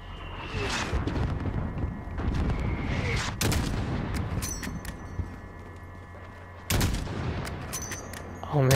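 Gunfire in the video game Call of Duty: Modern Warfare, with sharp shots at about 3.3 and 6.8 seconds standing out over a steady rumble of battle noise and scattered smaller cracks.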